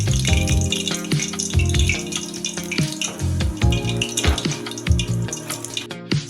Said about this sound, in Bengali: এইভাবে আর কয়েকটা আছে ভেজে তুলে নেব